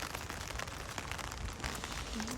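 Soft, steady rain patters across the grounds of an arboretum, a quiet diffuse hiss with scattered drops and no voices.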